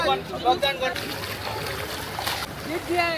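A speedboat out on the water off a Goa beach, with splashing and engine wash running steadily beneath a person speaking over it.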